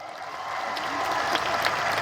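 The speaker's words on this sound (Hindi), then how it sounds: "तालियां बजा के स्वागत करिए फिर सबका" Crowd applause at a political rally speech in support of Chaitar Vasava, a dense, steady wash of clapping from many hands that swells slightly and holds for about two seconds.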